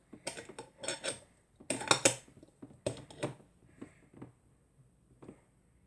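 A lid being closed on a glass jar holding a marimo moss ball, a series of close, sharp clinks and clicks in irregular clusters, fading to quieter taps toward the end.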